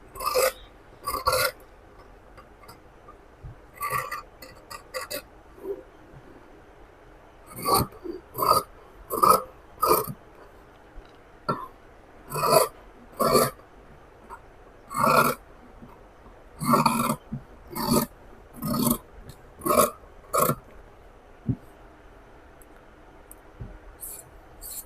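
Scissors cutting fabric along a drawn line for a frock skirt, a series of close, crisp snipping bursts in irregular groups with short pauses between, no talking.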